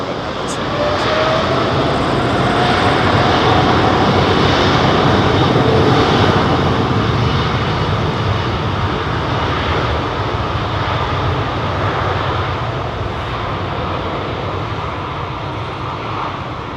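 An airliner taking off at London Heathrow Airport, a loud, continuous jet engine roar that swells and holds steady, heard close up.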